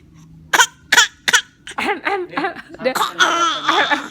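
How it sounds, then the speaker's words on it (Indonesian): Three sharp coughs in quick succession, followed by a voice making strained, wavering sounds, close to the microphone. "Udah bisa keluar batuk."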